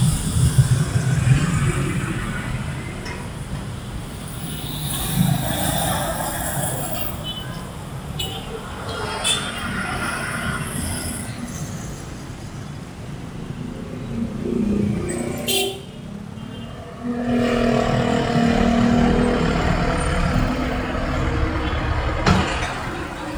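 Cars and trucks pass by on a busy street near an automatic gate, with steady traffic rumble, a horn toot, and a brief lull midway before the vehicle noise swells again.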